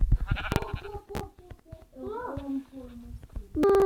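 Sheep bleating in a video game, several wavering bleats in the middle, with people talking around them and clicks at the start and end.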